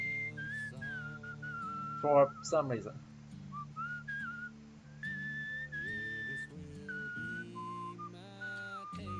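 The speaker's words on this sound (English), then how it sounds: "we can go whistling, and that lets us walk faster" In the video game Where the Water Tastes Like Wine, a skeleton hobo whistles a wandering tune while walking, the melody continuous over a soft background score, with someone talking briefly over it.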